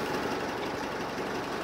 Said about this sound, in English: a very unreliable two-stroke outboard to do all our manoeuvring